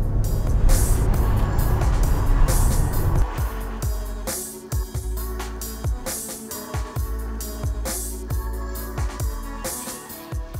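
A 2020 Porsche 911 992 Carrera cruises along a road with a deep, steady engine rumble and road noise. The tone eases and shifts partway through, then carries on as a lower, pulsing drone with no talking.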